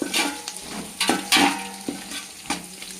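Onions frying in a pan for a home-style chicken dum biryani, a steady close sizzle broken by several sharp scrapes and stirs of a spoon against the pan.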